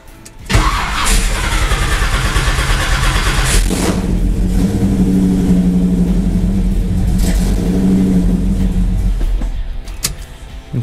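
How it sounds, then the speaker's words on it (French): A small moped engine with carburetor work underway sputters to life, then revs up and holds a loud, buzzing high idle for several seconds before dropping off. "je vais démarrer pour voir, essayer de faire chauffer un petit peu le moteur"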